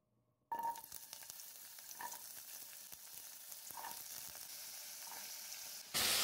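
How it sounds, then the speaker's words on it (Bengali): Cauliflower, potato and carrot frying in about 1.5 tablespoons of oil over a low flame, a steady close sizzle with occasional brighter pops and crackles, no talking. "লো ফ্লেমে ফ্রাই করে নিচ্ছি।"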